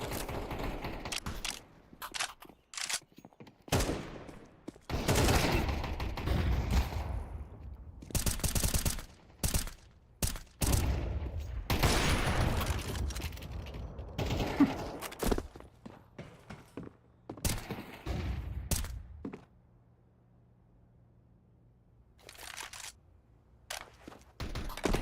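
Bursts of gunfire from a European Pro League esports match, shots cracking in irregular clusters over several seconds, then a quieter stretch with a low steady hum, and a final burst near the end.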